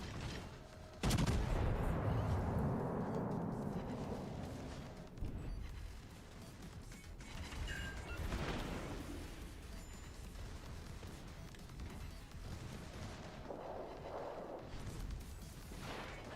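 World of Warships battleship main guns firing HE shells: a heavy, booming salvo erupts and rumbles away, followed by further distant thuds and rolling battle noise under faint talk.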